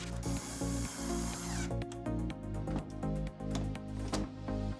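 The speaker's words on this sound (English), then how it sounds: "secure it with the original screws" A power driver runs screws into a Maytag washer console, whirring in short repeated bursts with steady tonal hum, close and fairly loud.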